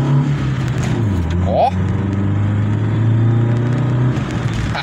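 A tired 1.0 GM engine in a Chevrolet Corsa Wind fitted with a sporty Shutt air filter, revving up with a droning tone that holds and rises, close and loud, as someone speaks over it.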